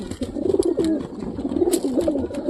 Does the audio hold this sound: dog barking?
no